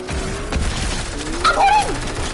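Sniper rifle fire in a PS4 shooter game, a couple of loud sharp shots amid busy in-game combat noise and faint background clatter over a few seconds.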